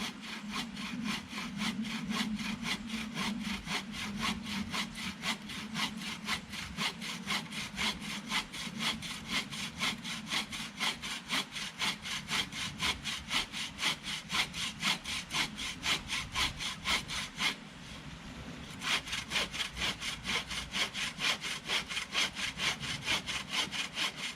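A bow saw cuts through dead wood in a bushcraft setting, giving a fast, even back-and-forth rasp of close, loud strokes that runs nearly nonstop, broken by one short pause.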